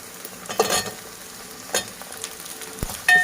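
Potatoes and carrots are stirred into hot oil with lightly fried onions for a Sindhi veg biryani. Soft, close sizzling runs under occasional scraping stirs and spoon clinks, with no talking.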